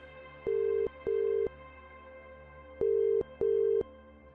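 Four steady electronic ringback tones in two pairs, each about half a second, with a pause between the pairs. No voices.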